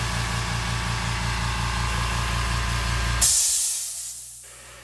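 Airbrush hissing steadily as paint is sprayed onto a sponge crawfish fishing lure, a continuous loud spray with a motor hum beneath, then an abrupt burst of air and fading hiss near the end.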